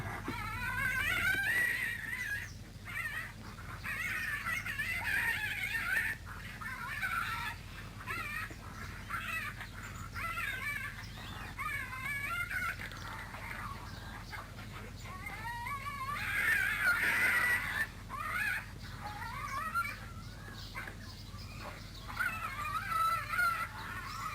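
Tasmanian devils from the Sega CD game The San Diego Zoo Presents: The Animals! keep up loud, harsh, screeching calls that rise and fall in uneven bursts. The noise runs almost without a break across the whole stretch, with no talking.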